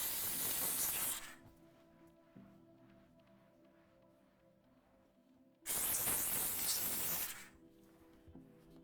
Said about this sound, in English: The plastics I'll directly steam again, just in case there's particles stuck in those cracks.